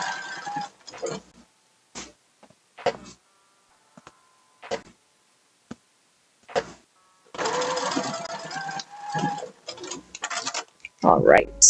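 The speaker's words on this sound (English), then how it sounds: "I'm gonna sew at high speed to keep myself awake" Home sewing machine running fast while stitching a pocket bag seam on a wrap dress, with short bursts of whirring and then longer sustained runs, close and fairly loud, separated by quiet pauses.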